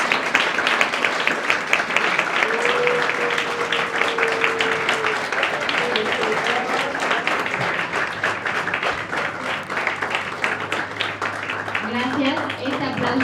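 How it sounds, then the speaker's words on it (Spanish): Audience applause at a panel discussion on Mexican cinema and new platforms: steady, dense clapping that fills the room for the whole stretch, with a voice speaking over it. "Este aplauso también es para ustedes"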